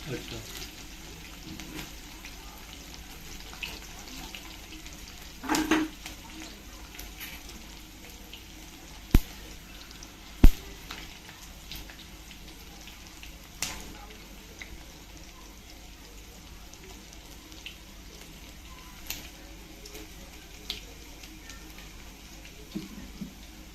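Garlic and curry leaves fry in hot oil as a tempering for spinach dal, a faint, steady sizzle with occasional clinks and stirring knocks, partly under a voice.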